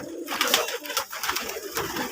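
Pigeons on a farm of local Bangladeshi desi pigeons coo in repeated soft, throaty bursts, several birds overlapping close by with short pauses between calls, no talk.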